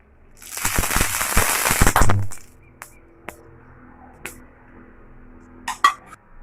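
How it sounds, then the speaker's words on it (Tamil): An egg fries on a dosa griddle over a gas stove, erupting in a dense burst of loud crackling and spattering before settling into sparse, scattered pops and sizzles. "இந்த முட்டை கீழே தோசை கல்லில் பத்துருச்சுன்னா வெடிக்க ஆரம்பிச்சிடும்"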